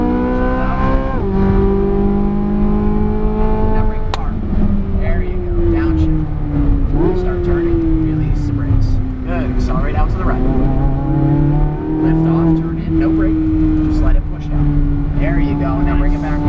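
A car laps Las Vegas Motor Speedway, its engine climbing to full throttle, dropping at an upshift, then winding down under hard braking. The loud, close engine sound runs throughout with an instructor talking over it.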